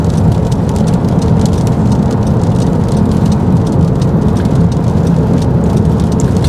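Steady, heavy rain hisses and patters continuously, with a low rumbling undertone like traffic or an engine nearby.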